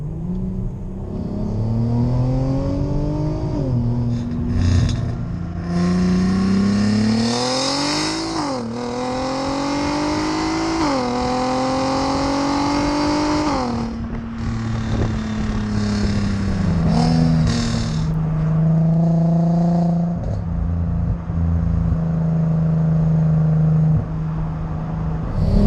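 A VW MK5 Golf R32 with its 3.2 litre engine through an aftermarket exhaust, driven on country B roads, revs climbing and dropping through several gear changes, loud and continuous, no talk.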